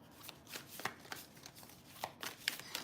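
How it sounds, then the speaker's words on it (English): A sticky deck of cards being shuffled gives quiet, close riffling and slapping bursts in an uneven rhythm, with no one talking. "I'm gonna shuffle, then I'm just gonna pour from the top because this deck is sticky"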